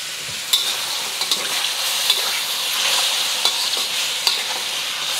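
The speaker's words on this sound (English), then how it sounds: "adding another tablespoon of oil and getting my seafood in." Seafood, shrimp and squid, stir-frying in hot oil in a pan, giving a loud bright sizzle with quick stirring scrapes and spatters, close by and without voices.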